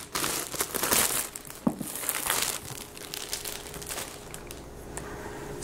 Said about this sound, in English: So let's just get rid of the plastic wrapper.